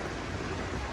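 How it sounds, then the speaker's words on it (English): Heavy rain falling on a hillside, a dense, unbroken wash of loud hiss with no gaps or individual drops standing out. "It's raining quite heavily now."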